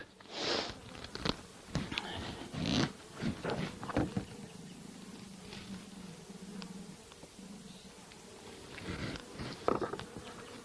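Honey bees buzz softly around the frames as a five-frame nuc is moved into a new hive, a faint, steady hum under scattered handling clicks and rustles close by.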